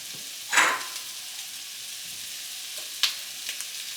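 Beta Pack curry with vegetables frying in a pot, a soft steady sizzle with a couple of brief louder stirring scrapes.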